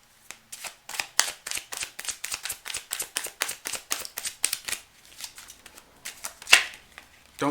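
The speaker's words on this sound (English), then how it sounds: "I'm going to shuffle some more." Tarot cards shuffled by hand in quick, crisp riffling bursts, a steady run of papery slaps and flutters close up, easing off briefly before a final sharper snap.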